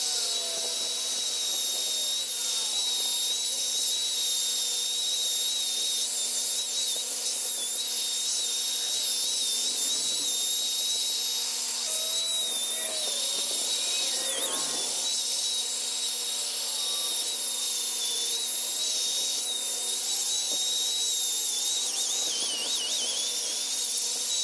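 A handheld grinder fitted with a small coarse ball bit carves wood on a chainsaw-carved figure, its steady high-pitched whine running close and continuous with shifting grinding texture as the bit works the surface.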